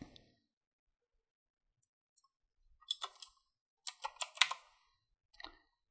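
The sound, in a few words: typing a patient's name on a computer keyboard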